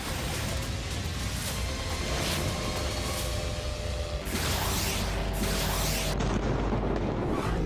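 Explosions from Russian drone and missile strikes on Ukrainian cities, including Kyiv, form a loud, continuous roaring rumble with heavier blasts bursting through near the end, with no voices.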